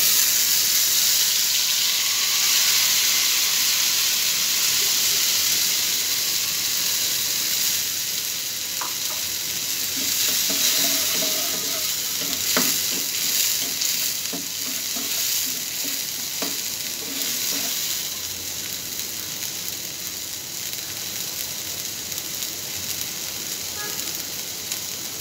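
A paste of chilli and black cumin blended together frying in a pan for a vegetable curry, giving a continuous loud sizzle and hiss with occasional stirring scrapes and spatula knocks, no voices.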